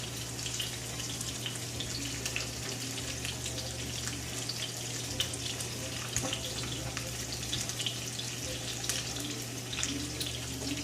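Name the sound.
asparagus and garlic frying in a pan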